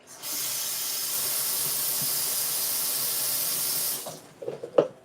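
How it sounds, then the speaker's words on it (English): A steady, loud hiss of something sizzling in a hot pot runs for about four seconds, then cuts off, followed by a few faint clinks and shuffles. "I can hear it sizzling."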